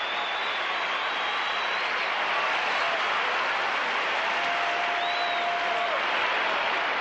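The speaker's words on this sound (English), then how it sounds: "Listen to that applause." A large arena crowd at the 1984 Olympics gymnastics competition keeps up a steady, distant roar of applause, a smooth, unbroken wash of clapping with a faint whistle or tone drifting through.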